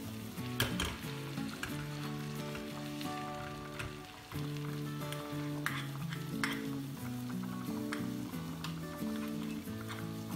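Mint and red pepper flakes sizzle in a hot pan and are stirred for a yogurt soup topping, a steady close frying crackle with occasional utensil taps under continuous background music.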